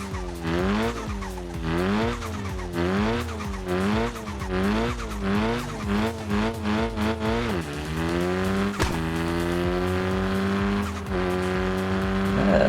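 Inline-4 car engine in the Car Parking Multiplayer video game, revving repeatedly in quick rising and falling bursts with tire squeal, then holding a steady higher drone near the end, loud and close with no talking.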